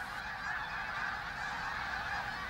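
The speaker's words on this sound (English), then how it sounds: "One species that was severely impacted was the greater snow goose" Greater snow geese honk on the marshes of Assateague at Chincoteague National Wildlife Refuge, Virginia, a dense continuous chorus of many calling birds at a steady level, with no individual calls standing out.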